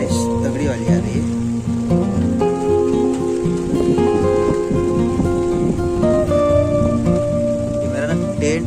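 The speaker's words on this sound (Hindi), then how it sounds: "बारिश तगड़ी वाली आ रही है।" Heavy rain pours steadily during a rainstorm over a tonal background with humming and ringing sounds, loud and constant, heard from inside a tent.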